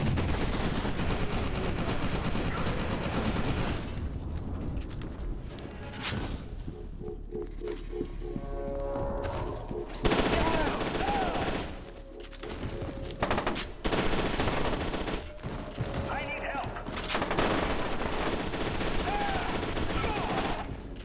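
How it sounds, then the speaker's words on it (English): Gunfire and bullet impact effects from the video game FEAR 2 in an abandoned lab, with loud bursts of automatic fire and booming hits repeating over many seconds, broken by brief quieter gaps. "Some weird bullet effects too."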